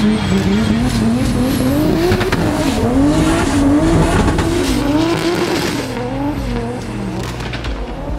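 A drift car at a French drift championship accelerates hard, its engine wailing loudly with rising and falling revs while the tires squeal continuously, close and unbroken throughout.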